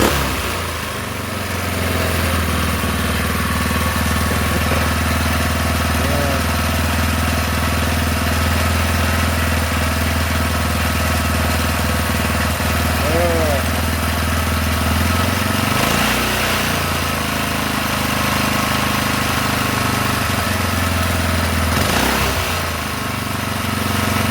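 A 4-stroke engine runs at a steady idle after starting, a loud, continuous close-up drone with a constant low rumble and a few faint throttle changes.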